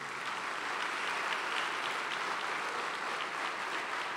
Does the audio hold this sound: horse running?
no